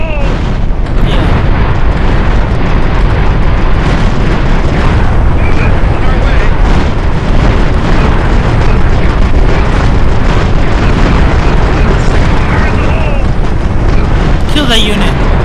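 Continuous rumbling booms and blasts of WWII-era battle in the strategy game Empire Earth 2, North Africa and Sicily 1943, loud and dense throughout with barely a pause.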